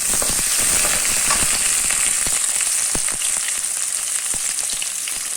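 Chopped onion sizzles in oil in a pan while a pigeon curry is being cooked, a steady loud frying hiss with scattered crackles and pops, with no talking.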